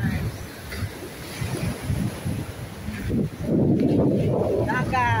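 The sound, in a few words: sea waves on the shore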